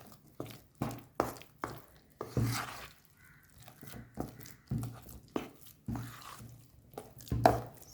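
Eggless Christmas cake batter full of nuts is stirred by hand in a bowl, giving a run of thick, wet thuds and squelches in an uneven rhythm, close and fairly quiet.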